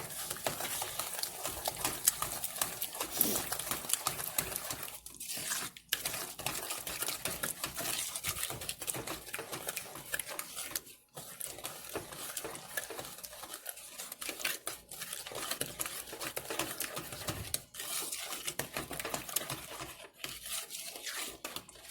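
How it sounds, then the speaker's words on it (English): A spoon stirring pumpkin chocolate chip cookie mixture without eggs, a steady run of scraping and clinking against the bowl, close and continuous with brief pauses. "now I am going to stir this up before I add any of the flour"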